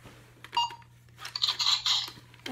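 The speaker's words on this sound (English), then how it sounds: "There's a little beeping noise it makes, which is annoying." Several short electronic beeps and chirps from a small laser tag toy, with a brighter burst of tones in the middle, fairly close and quiet.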